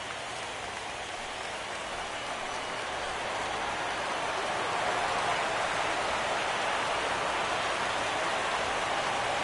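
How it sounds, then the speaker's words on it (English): Heavy rain pours down on a baseball stadium in MLB The Show 17, a dense, steady hiss that swells slightly louder partway through, with no voices. "Well, the rain is really coming down."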